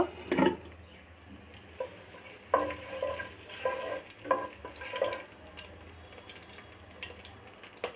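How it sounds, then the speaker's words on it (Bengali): Chopped garlic and a pinch of fenugreek fry in oil, a gentle low sizzle punctuated by several distinct stirring scrapes and clinks of a spatula against the pan, fairly quiet and without voices. "রসুনটাকে একটু ভেজে নিব।"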